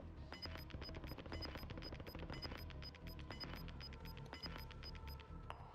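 Rapid bursts of nearby gunfire in a battle royale video game, with sharp repeated shots in quick clusters and a few pauses, loud and close throughout.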